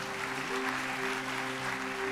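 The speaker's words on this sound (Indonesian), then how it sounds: "Kita berikan tepuk tangan baginya." A church congregation applauds steadily at a New Year Sunday service, the soft, even clapping sustained for a couple of seconds over a faint, held musical tone.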